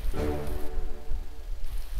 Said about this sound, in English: I think this rain is fucking with them.